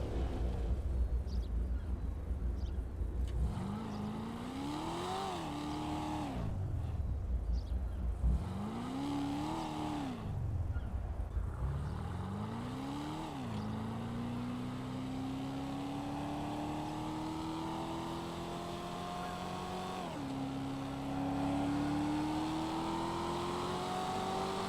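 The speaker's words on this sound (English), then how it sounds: "And the Corvette Blackfin has that V8 raspy sound." A Corvette Blackfin with a raspy V8 in GTA Online revs up in several rising and falling sweeps, then settles into a long sustained pull that climbs steadily with a shift near the end, loud and close with no talk.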